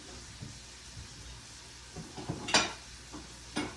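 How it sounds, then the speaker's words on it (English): Bacon frying in a pan over fairly high heat, with soft sizzling and a few sharper crackles and utensil scrapes near the end, close and moderately quiet. "So while that bacon is frying, I'm going to leave it kind of up on a little bit higher of a heat."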